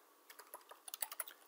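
Quick, irregular keystrokes on a computer keyboard as a command is typed, about a dozen light clicks in a short run, fairly quiet and close with no talking.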